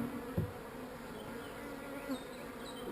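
Bees hum steadily around the frames of a Layens hive, a quiet, continuous buzzing with a few individual insects droning past close by and one brief thump early on.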